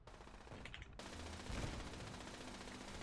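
Automated turrets in Fallout 76 firing on an Assaultron robot inside a control room, a dense, loud and continuous burst of rapid gunfire that fills the whole stretch with no voices.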